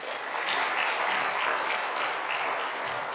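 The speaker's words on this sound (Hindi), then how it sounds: "जोरदार ताली बजाएं।" A church congregation applauding loudly, a dense sustained wash of clapping from many hands that holds steady for a few seconds without speech.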